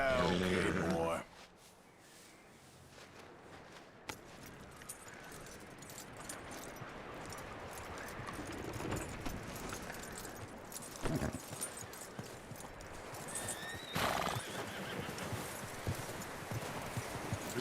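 A horse in the Red Dead Redemption II game moves with soft, irregular hoof clops, tack jangling and occasional snorts. A short burst of loud sound comes at the start and a few louder thumps follow under a steady outdoor ambience.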